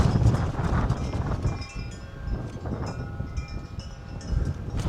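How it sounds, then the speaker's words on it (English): Strong gusting wind outdoors in a desert rock garden, roaring and buffeting the microphone with a constant low rumble that swells and eases over a few seconds, no talking. "The wind is crazy today."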